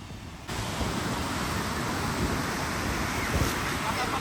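Atlantic Ocean waves at Long Beach, New York, make a steady rushing surf with a constant broad wash and wind buffeting the microphone, alongside faint voices in the background.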